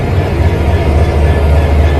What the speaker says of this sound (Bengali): দেখো ইঞ্জিনের বিকট শব্দ